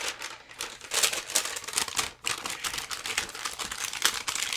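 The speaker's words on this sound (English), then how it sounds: "Sorry for the crinkling." Paper or plastic crafting material crinkles and crumples steadily at close range, a dense, continuous rustle with brief pauses.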